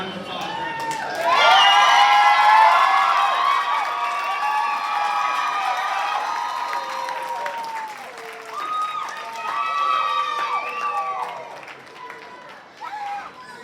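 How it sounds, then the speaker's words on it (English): At a Charter College graduation ceremony in Salt Lake, a large crowd breaks into sustained applause mixed with cheers and scattered shouts, swelling and easing over several seconds. "Please give them a round of applause, graduates."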